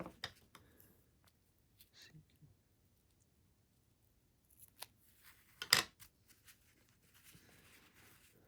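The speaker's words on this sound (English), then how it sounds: "when cutting odd-shaped objects to use curved scissors rather than straight scissors" Curved scissors snipping RC tire material in small increments, quiet scattered clicks and soft cuts with one sharper snip, over a near-silent background.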